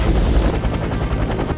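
A cat-shaped helicopter in the Batman: The Brave and the Bold video game gives a loud, rapid chopping flutter of rotor pulses, with a brief high tone fading out early on.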